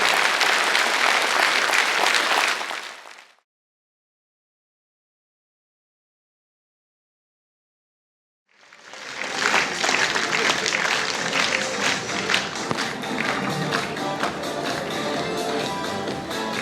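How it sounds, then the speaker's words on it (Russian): Concert audience applause for a Cossack folk song and dance ensemble in Tver: dense clapping for about three seconds, several seconds of complete silence, then a second long, loud burst of clapping that carries on to the end. "Аплодисменты."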